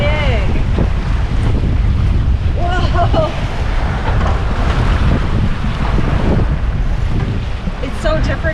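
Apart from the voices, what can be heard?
big waves and wind while sailing on Green Bay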